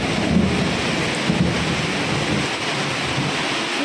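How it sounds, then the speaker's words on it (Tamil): Thunder rumbles through a steady downpour in a rural village, the deep roll swelling early and then sinking back into the constant hiss of rain, with no voices. "இடி முழக்கம் கேட்கும்னு நினைக்கிறேன்."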